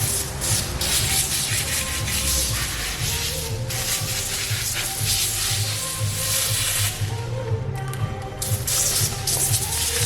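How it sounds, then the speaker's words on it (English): Spray hissing on the back window of a Nissan Skyline during prep for tinting, with steady broad spraying and rubbing sounds close by, under a constant low rumbling background hum. "Gonna spray down all the back, just in case I hit any of the metal."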